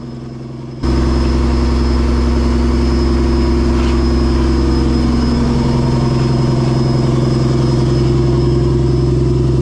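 Fishing boat engine at deep sea starts up and then runs with a loud, steady low drone, throbbing evenly and close by for several seconds; no voices.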